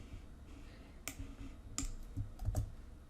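Quiet mouse clicks and a few keystrokes at a computer, sparse and close over a soft room hiss, with no talk.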